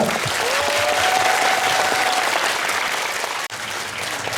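An audience at a memorial concert applauds before a soprano and baritone duet, a thick, even sheet of clapping with a faint tone running through it and a brief dropout near the end.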